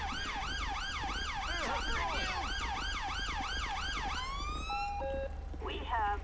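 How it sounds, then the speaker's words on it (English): A police car siren from GTA 5 with the UK police mod wails in rapid repeating sweeps, then shifts into a rising yelp and cuts to short tones, loud and close over engine rumble. "I'm gonna turn this siren off"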